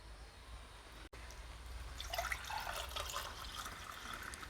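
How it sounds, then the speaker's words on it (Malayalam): Boiled herbal water, a sugar-free drink, is poured into a glass. After a brief silent gap, a faint, steady trickling pour runs for a couple of seconds with no talk. "നമുക്കിതൊരു ഗ്ലാസ്സിലേക്ക് ഒഴിക്കാം"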